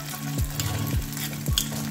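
Egg bhurji curry is stirred in a sizzling pan, with three distinct scraping strokes of the spoon over a steady close fry.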